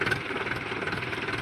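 A tractor engine chugs steadily at a low idle in a muddy paddy field, its rhythmic pulsing beat continuous and fairly close, with no voices.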